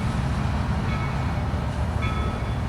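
A steam train running on the Valley Railroad near Essex, Connecticut, heard as a loud, continuous low rumble and rolling noise with faint high tones, steady and close throughout, with no talk.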